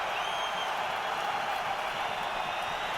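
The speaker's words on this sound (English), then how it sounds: "This crowd going wild." A boxing crowd in Quebec City roars at a championship bout, with a dense, continuous wash of cheering and applause filling the arena at steady loudness.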